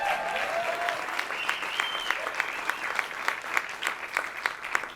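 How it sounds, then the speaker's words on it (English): An audience at a conference talk on measuring AI ROI gives a round of applause, with clapping that turns into a steady, rhythmic beat. Faint voices sound underneath the clapping. "can we give a round of applause for Jen"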